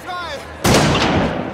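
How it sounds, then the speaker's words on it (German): A sudden loud blast of gunfire erupts after a brief whistling tone, a dense, harsh burst of shots that stays strong and rattling to the end. "Plötzlich fallen Schüsse."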